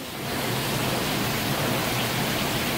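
Heavy rain driven by wind in a summer storm makes a dense, steady roar of water that rises quickly and stays loud and constant, with no voices.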